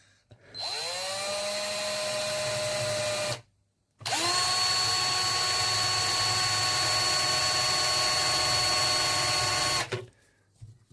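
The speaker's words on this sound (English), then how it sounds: "we just use a simple wire brush like this" A wire brush spun by a power drill scrubs metal on an old guitar amplifier, two loud sustained whirring runs with a brief pause between, close and alone.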